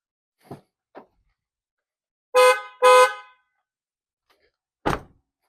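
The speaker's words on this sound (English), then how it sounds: "I got a real horn now" Two loud, short blasts from an aftermarket horn on a 2025 Toyota 4Runner in quick succession, preceded by a few faint clicks and followed by a sharp thunk.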